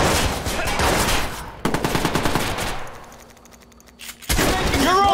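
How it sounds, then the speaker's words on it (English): Bursts of automatic gunfire from the video game Watch Dogs, rapid loud rattling volleys that break off into a quieter gap before another burst erupts near the end. "Got shot fired at my location."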